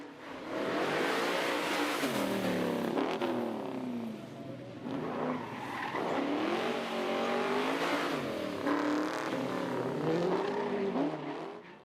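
A 1970 Ford Falcon XB GT, an Australian muscle car, revs loudly and continuously up close, its engine note rising and falling through repeated throttle blips for the whole stretch.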